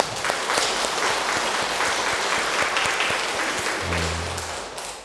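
A church congregation claps steadily and warmly, sustained applause filling the room before tapering off near the end.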